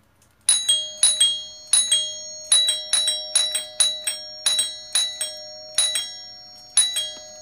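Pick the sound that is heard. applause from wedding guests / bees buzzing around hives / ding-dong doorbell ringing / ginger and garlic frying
ding-dong doorbell ringing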